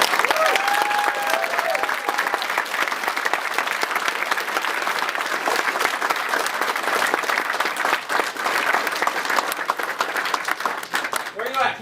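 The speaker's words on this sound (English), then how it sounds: "So let's all give them all a round of applause." Sustained audience applause fills a hall at a Warmachine tabletop gaming weekend closing ceremony, dense clapping throughout with voices and a few cheers mixed in.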